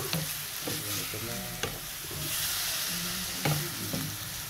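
Venison cooking in a hot pan, stirred with steady scraping while the sauce goes in, sizzling and frying continuously up close, with a brief murmur of speech.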